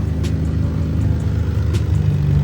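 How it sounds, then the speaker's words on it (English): Turbocharged Nissan G37 with a freshly built engine idling steadily just after its first startup, a loud, constant low rumble with an exhaust leak underneath, no talking. "Car is on, motor is good."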